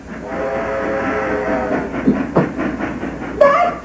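Fireball Express train pulling in, a rumbling rail approach with rhythmic clatter building and a whistle blast rising near the end, loud and close.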